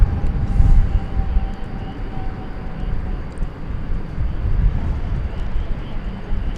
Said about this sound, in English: As we see a Frontier flight coming in.